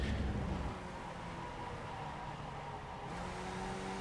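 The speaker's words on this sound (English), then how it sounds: "as he comes back on the gas, gets the benefits of the acceleration out of first gear" A Skip Barber race car in iRacing at the Hungaroring pulls hard out of first gear after a downshift, its engine note rising loud at the start and then settling into a steady mid-pitched drone.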